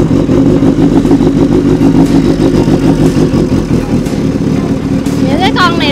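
A supercharged Kawasaki Ninja H2 motorcycle engine idles loudly and steadily up close, with a faint rising whine near the end.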